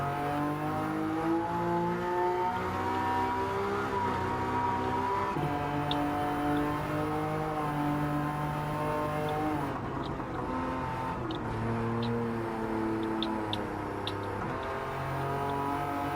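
A car engine in Gran Turismo 7 revs through its range, with a rising and falling harmonic whine and shifting pitch sustained throughout, and occasional faint clicks in the background.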